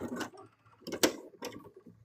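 A sewing machine stitches a goofy plush toy in short, uneven bursts of mechanical chatter with gaps between them. The runs are moderately close and include one sharper clack near the middle.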